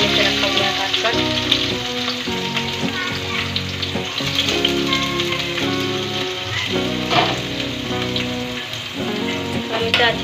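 Chopped onion frying loudly in hot oil with curry leaves and cumin, a dense continuous crackling sizzle that holds steady throughout, close and with no talk over it.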